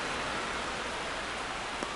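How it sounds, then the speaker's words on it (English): Steady rain pours down during a simulated Athletics versus Milwaukee Brewers baseball game, a dense, even hiss of drops that holds constant throughout with no voices over it. "This rain is not letting up."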